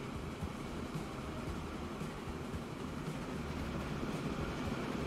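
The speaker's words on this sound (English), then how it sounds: "Oh, there's the train coming the other way." A loaded freight train rumbles along the track in Transport Fever 2, a steady, loud, continuous low roar and clatter with no break over several seconds.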